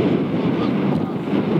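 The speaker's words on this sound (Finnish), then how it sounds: "Tämä on mukava, kun tuulee ja tuiskuu." Strong wind roars steadily across an open snowy fell in northern Norway, buffeting the microphone in a loud, constant rush with no pauses.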